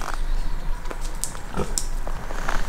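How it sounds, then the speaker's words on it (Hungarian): A pig grunting indoors on a house's upper floor, a few short close oinks and snorts scattered over steady background noise, with no talk. "annyira szimpatikus vagyok a malacnak"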